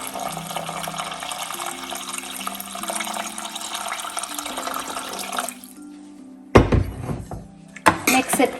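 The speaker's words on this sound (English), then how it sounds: "Now add the required amount of water." Water poured into a pot of sambar with turmeric and sambar powder in a home kitchen, a steady running splash for several seconds, then a pause followed by louder sloshing bursts near the end.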